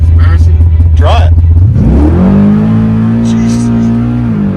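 A 9-second Chevrolet Malibu drag car launches hard from a stop, its loud, close engine rumbling low and then climbing sharply in pitch as it accelerates, with voices talking over the start.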